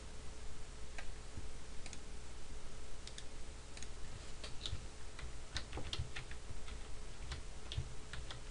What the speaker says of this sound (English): you can barely keep up with my typing